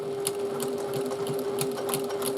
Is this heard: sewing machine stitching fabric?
yes